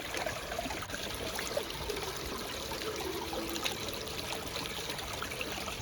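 Water running through a big red gold sluice with a six-inch smooth flow header, a steady close rushing and trickling wash that carries on without a break.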